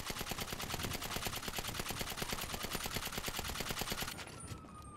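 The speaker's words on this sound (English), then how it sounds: "I'll try out this new gun I got." Rapid automatic gunfire from a newly acquired gun in the GTA video game, a dense sustained burst of shots lasting several seconds before cutting off abruptly.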